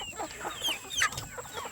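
Meat chickens with dark blue feet cluck and chirp close by on a farm, a few short rising calls in quick succession.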